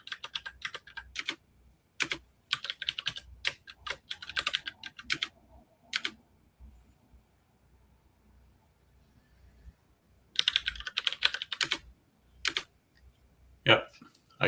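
Quick clusters of keystrokes on a computer keyboard while a password is entered, close and crisp, broken by pauses of near silence between bursts.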